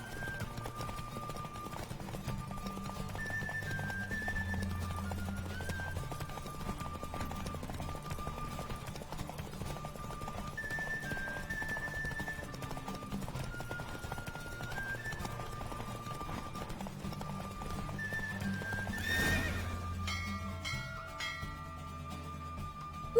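Hooves gallop in a steady drumming rhythm through a horse race in the video game Witcher 3, with a quick neigh near the end, all under continuous looping game music.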